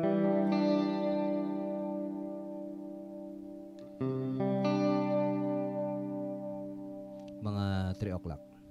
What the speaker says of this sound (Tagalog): gusto nating lagyan ng reverb.